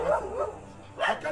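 A dog barks in a Nigerian movie scene, with four short, close barks: two at the start and two more after a brief pause.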